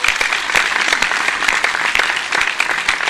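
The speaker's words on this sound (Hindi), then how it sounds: "और सुनना चाहते हो यदि अर्जुन अल्लड़ को मस्ती से तो एक बार जोरदार तालियां बजाइए" Dense, loud audience applause at a Hindi comedy poetry gathering, a steady wash of many hands clapping throughout with no talk over it.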